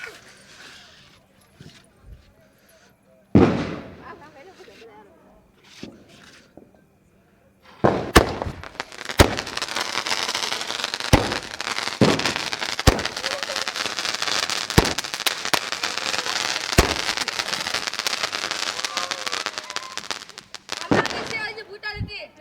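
Repeated sharp firecracker bangs, loud and close, scattered then coming in a dense crackling burst, with people talking now and then.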